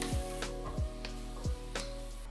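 Spring onion and cauliflower being stirred in a hot pan for vegan dry pot cauliflower: steady close sizzling broken by four rhythmic scraping strokes of the spatula, with no talking.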